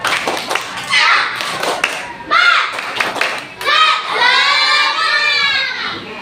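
Schoolchildren in an elementary classroom perform a rhythmic clapping chant, sharp bursts of claps mixed with loud shouted voices in unison, close and lively.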